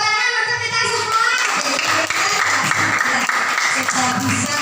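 Clapping from a group breaks out after a voice and continues steadily, with voices mixed in.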